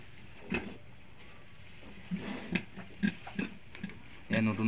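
Pigs grunting on a farm, a few short separate grunts and snorts close by, with a louder burst at the end over a quiet background.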